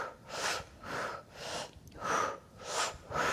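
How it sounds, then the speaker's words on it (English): Breathing exercise with slow, airy breaths rising and falling in a steady rhythm, about five soft rushing exhales and inhales, close and quiet, with no talking. "Deep inhale, long exhale."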